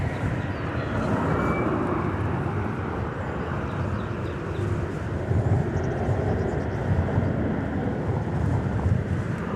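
A Boeing 737-800 airliner passes at DFW airport, a continuous jet roar with a gusty, swelling low rumble that builds slightly toward the end, with faint voices in the background.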